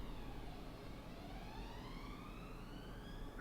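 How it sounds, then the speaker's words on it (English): Emergency sirens wail faintly in the distance, their rising and falling tones drifting steadily throughout. "I keep hearing sirens, I don't know why."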